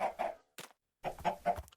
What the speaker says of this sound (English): These silly little chickens.